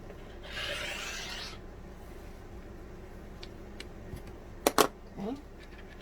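A quilt's edge being trimmed, a brief soft scraping swipe early on, then quiet handling and a few sharp clicks and taps close by.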